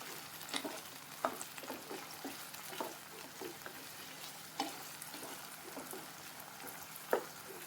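Vegetables mixed in a frying pan, with a steady soft sizzle under scattered spatula scrapes and taps, fairly quiet and close, no one speaking.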